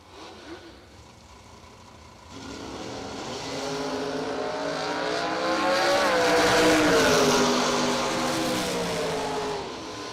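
Camaro drag racing car launching down the strip at a drag racing event, its engine rising from a quiet start into a loud, climbing revving roar that peaks and holds before easing slightly.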